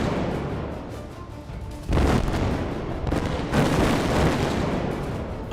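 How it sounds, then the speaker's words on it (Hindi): Explosions from India's 1998 nuclear tests at Pokhran sound as deep, heavy booms. Two blasts break out about two seconds apart, and each swells into a sustained, rumbling roar. "अटल जी की अगुवाई में 11 और 13 मई को 1998 में 2 भूमिगत विस्फोट हुए।"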